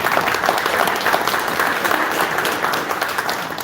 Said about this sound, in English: giving everybody a round of applause up here is awesome